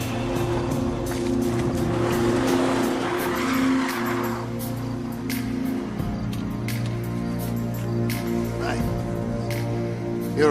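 A car brakes hard and skids to a stop with loud, close tyre squeal that fades out, followed by engine idle, while voices shout over the start.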